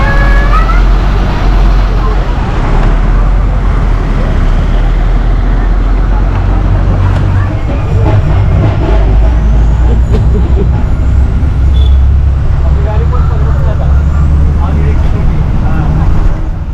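A bus pulling out of Solapur on the journey to Pune produces a loud, steady engine rumble and road noise throughout, with traffic and occasional air-brake hiss, and faint voices in the background.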